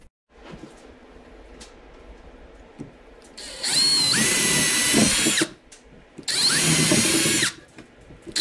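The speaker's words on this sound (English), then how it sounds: "I'm going to drill 15 holes, roughly the diameter of these lights." A power drill whirs loudly in two bursts of a second or two each, boring holes in wood, separated by a short pause, with quieter background noise before.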